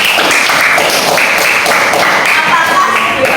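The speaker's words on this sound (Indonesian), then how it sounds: "Tepuk tangan untuk Mas Rifki" An audience in a classroom session breaks into steady, loud applause, a dense wash of many hands clapping that carries on without a pause.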